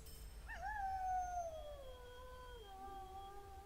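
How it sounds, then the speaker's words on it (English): A creature howls outside in a Gondor-set video game: one long, drawn-out howl that wavers and slowly falls in pitch, moderately loud against a quiet background. "That's quite a howl out there."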